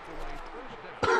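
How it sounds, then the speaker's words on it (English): A man gives a single short, harsh cough or throat-clear at the end, after a stretch of soft indistinct background sound, close and fairly loud. "sorry about all the coughing"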